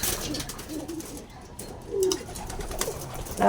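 A Stillman line racing pigeon cooing inside a loft, soft low coos rising a few times over a steady background hiss, with faint bird chirps around.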